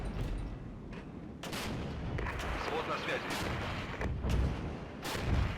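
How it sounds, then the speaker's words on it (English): Artillery barrage in the Cold War strategy game Regiments: repeated booming impacts and rumbling blasts at moderate distance, one after another over a continuous rumble, with a voice talking faintly underneath. "We'll hit that with the artillery."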